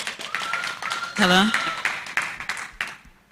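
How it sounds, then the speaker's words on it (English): Applause greets a speaker at a film distribution and marketing panel, a moderate crowd clapping steadily while a voice talks over it and the clapping tapers off toward the end. "A big round of applause for Shako."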